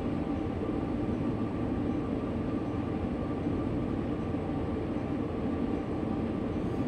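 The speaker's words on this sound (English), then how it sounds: "this is a runaway. You know, I'm completely out of control of this train." A runaway freight train in the Train Sim World 2 simulator on Sherman Hill gives a continuous heavy low rumble and roar of rolling stock, steady and unbroken, with no voices.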